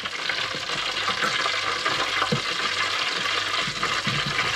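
Battered cod frying in shallow oil, a steady close sizzle and crackle running throughout with a soft shift as the piece is turned, no voices.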